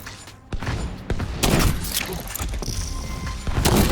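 Rapid gunfire bursts and heavy impacts from a shooter video game, The Division 2, loud and dense across the whole stretch, with a voice briefly audible under the shooting.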